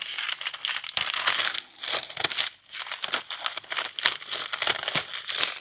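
A paper mailer envelope is torn and crinkled open in a steady run of rough ripping and rustling bursts, close by and continuous for several seconds with no talk.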